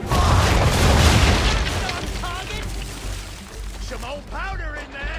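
Ship cannons fire in an Assassin's Creed III naval battle, a loud powder boom opening the clip and rumbling off, followed by sparse crackling debris and distant shouts under the fading roar.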